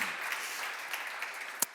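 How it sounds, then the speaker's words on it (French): Applause from an audience at an evening debate event, a faint, brief patter of clapping with one sharper clap near the end. "on peut vous applaudir"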